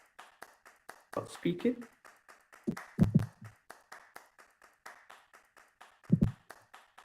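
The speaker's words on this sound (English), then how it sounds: "Someone is clapping." Scattered claps from someone during an online livestream about fundraising, a few sharp hand claps in small bursts heard under ongoing talk by a presenter.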